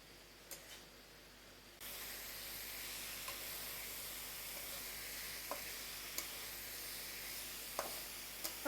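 Pui saag greens frying in a pan with chilli, turmeric and coriander powder, giving a steady soft sizzle with occasional small pops and stirring ticks, alone without talk.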